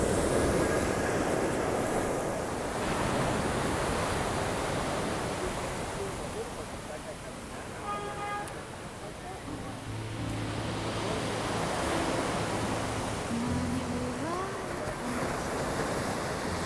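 Sea waves washing onto the shore, a broad continuous rushing wash with gentle swells, steady and moderately loud, mixed with some wind noise on the microphone and faint background sounds.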